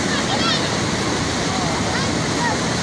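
Floodwater rushes across a road in Lopedo, Karamoja region, Uganda, making a steady, dense roar that holds at an even loudness through the whole stretch with no pauses.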